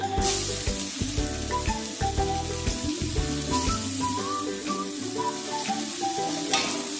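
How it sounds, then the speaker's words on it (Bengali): Chopped tomato frying with golden-browned onion in a pan for an eggplant bharta, giving a steady, loud, close sizzle throughout with occasional stirring, as music plays in the background. "টমেটোটা ভালো করে ভেজে নিতে হবে"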